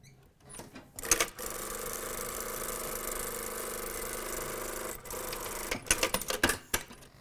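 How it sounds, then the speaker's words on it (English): A sewing machine stitches a lapped zipper pocket on a vest, running in one steady loud whir for several seconds, then stopping and starting in short uneven bursts. "You can either stitch it from the corner down or just close it off from here."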